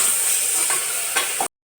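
Spices with a pinch of coriander powder are stirred and fried in a pan, a loud steady sizzle with scraping strokes that cuts off abruptly before a brief return.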